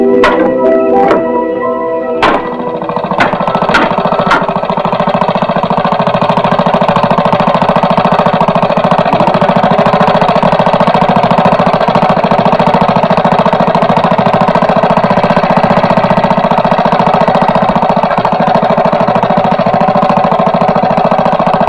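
An engine runs close and steady with a dense, rattling drone, a few sharp knocks at the start and then a constant hum throughout.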